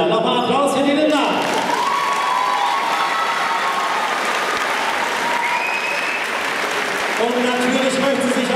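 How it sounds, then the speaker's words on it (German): Audience applauding a long-serving instructor named Linda at a university sports centre oriental dance event, steady loud clapping across the whole stretch, with voices and brief tonal sounds over it at the start and end. "Nochmal Applaus für die Linda"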